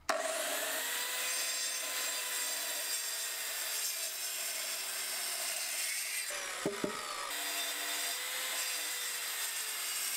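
A power saw cutting a timber roof beam for a carpentry frame, a continuous loud whining cut that runs almost the whole time, briefly dropping out for a moment before resuming.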